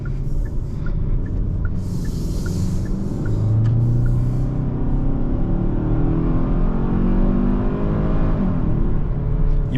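A 2024 Hyundai Sonata's engine pulls hard at high RPM during a drive, a steady, loud rising drone with a broad road and cabin rumble underneath, sustained throughout with no talking.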